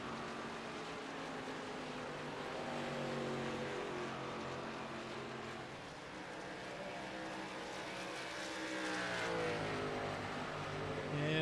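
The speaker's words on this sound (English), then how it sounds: "Jeff Napier exiting pit lane after some fresh tires as well." Steady roar of NASCAR race car engines at the Monster Mile as a car exits pit lane, a continuous, fairly distant drone that swells slightly and keeps going without a break.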